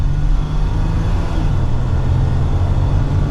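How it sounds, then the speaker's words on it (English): A Jeep Gladiator Sport S on 38-inch tires accelerating from the driver's seat, a steady, loud low engine drone that holds through the whole stretch with no talk over it. "And we'll give it another acceleration."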